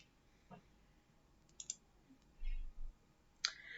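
Several sharp, faint computer mouse clicks spaced irregularly across a quiet room while a slide is downloaded, with a soft low thump between them.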